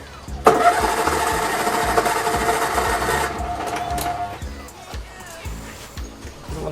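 A small engine cranks and sputters in a rapid mechanical chatter for a few seconds, catches briefly, then falters into uneven knocking and thuds as it struggles to start, close by with people talking faintly.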